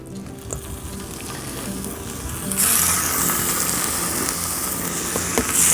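Thinly sliced beef frying in a pan for a cheesesteak, a steady sizzle that grows louder and brighter midway as the meat hits the heat, with faint stirring clicks and no talk.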